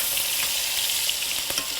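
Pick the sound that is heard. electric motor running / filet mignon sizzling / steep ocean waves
filet mignon sizzling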